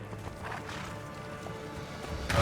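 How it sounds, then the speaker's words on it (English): Hooves of a galloping horse in the video game Assassin's Creed Brotherhood give a quick, fairly faint clip-clop rhythm amid game ambience, ending in a louder burst. "Faster to travel by horse."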